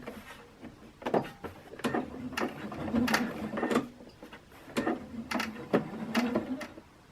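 A sewing machine stitches the raw edges of a polo shirt in short bursts of quick mechanical whirring, stopping and starting several times at a fairly low volume.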